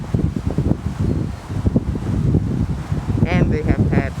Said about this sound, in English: As you can see and hear, it's very, very windy.